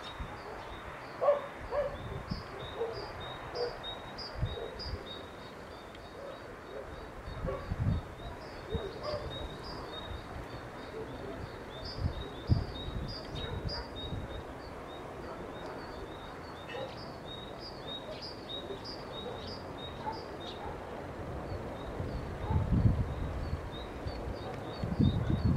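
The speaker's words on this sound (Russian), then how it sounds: "Послушайте пение птиц." Birds sing outdoors near a blooming felted cherry shrub, repeating high, thin chirps throughout at moderate distance over rustling and low background noise.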